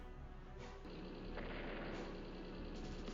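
Anti-tank unit strike in Advance Wars: Days of Ruin, a dense booming artillery-like blast rolling on for a few seconds, fairly quiet overall with a sharper burst near the start.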